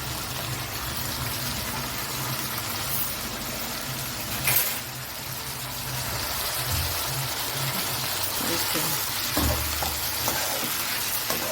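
Potatoes and rice fry in a pan with green chillies for aloo fried rice. A steady close sizzle runs throughout, with occasional stirring scrapes and knocks and no voices.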